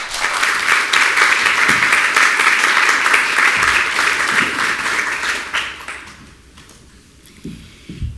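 A lecture audience breaks into sustained applause to welcome the artist Jill Magid. The clapping stays loud and dense for about six seconds, then fades out into a quiet room with a few faint knocks.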